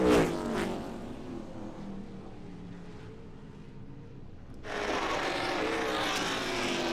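Race cars on the oval at Caraway Speedway roar through turn two in a loose battle, engines droning at a distance with a louder burst at the start and a swell of noise toward the end.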